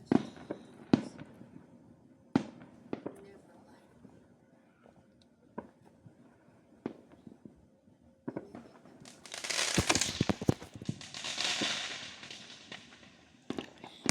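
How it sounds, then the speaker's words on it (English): Fireworks burst in a night display: scattered sharp bangs early on, then a dense, loud crackling barrage of rapid pops in the middle before it thins back to occasional distant booms. "they're still doing fireworks"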